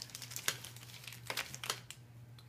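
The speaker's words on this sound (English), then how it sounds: "in a little cardboard thing, we open it" A small cardboard box of keyboard accessories is opened with quiet, close crinkling and rustling, a few crisp scratchy bursts over a faint low hum.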